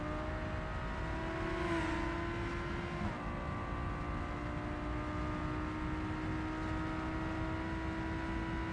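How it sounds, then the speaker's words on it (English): A car in BeamNG.drive accelerates with nitrous engaged, giving a steady, sustained engine whine and roar with a slight pitch dip partway through, continuous and fairly loud with no talking. "Nitrous! Go! Alright, nitrous is on."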